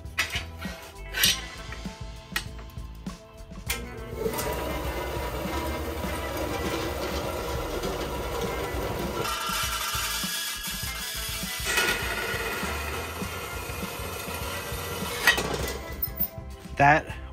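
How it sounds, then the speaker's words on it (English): A new bandsaw cuts metal clamped in its vise, a continuous rasping whir through most of the stretch, bracketed by clanks and mechanical clicks at the start and end. "I'm excited to get to use my new toy here, which is a bandsaw. This should make cutting stuff like this way easier."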